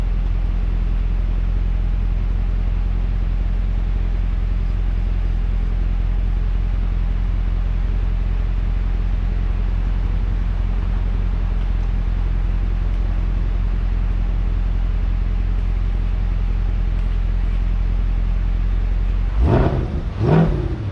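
Cabin drone of a 2021 Chevy C8 Corvette on a test drive, a steady low rumble and whir that holds throughout, with a short burst of louder noise near the end.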